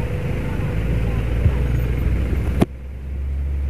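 A large multi-wheeled heavy truck under military escort rolls past on a road, a loud, steady low rumble close by that cuts off sharply near the end and drops to a quieter drone.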